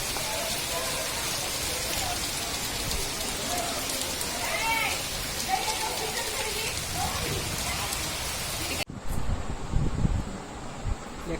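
Steady rain falls outdoors in a rural village setting, a dense even patter on surfaces that carries through the whole stretch, with a brief shift near the end to a closer, rougher wash of noise; someone speaks over it.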